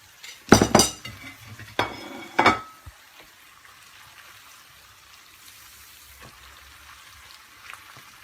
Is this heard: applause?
no